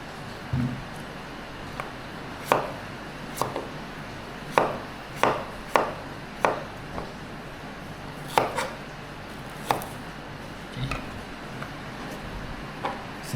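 Ginger is chopped by hand in a home kitchen while a Thai-style lunch is prepared, with a dozen crisp, close knife strikes on the board at an uneven pace, some coming in quick pairs.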